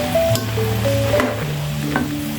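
Cashew nuts frying golden brown in oil give a soft, steady sizzle with stirring noises, close by, under sustained tonal hum-like sounds.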